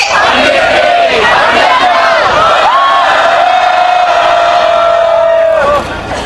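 A large crowd at a candlelight rally against the Korea-US FTA roars in a sustained collective shout, loud and continuous, with one long held cry rising over the mass of voices before it fades near the end.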